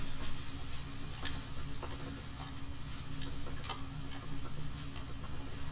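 Carrots hitting a hot pan of pork and leeks set off a steady low sizzle with light ticks and stirring clicks scattered throughout, close and moderately quiet.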